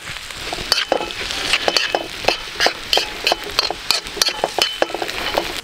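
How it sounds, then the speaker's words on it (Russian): Mushrooms frying in a pan with onion and risoni pasta, scraped and stirred repeatedly: a steady close sizzle broken by rhythmic clicking scrapes of the utensil against the pan. "И добавляем наши грибочки. И пару минут обжарим еще."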